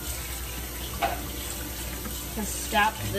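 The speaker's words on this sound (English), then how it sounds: "now we're gonna go straight from this boiling water into cold water" Running tap water splashes as blanched green beans go from boiling water into cold water in a home kitchen, a steady wash with brief louder bursts near and a voice talking over it.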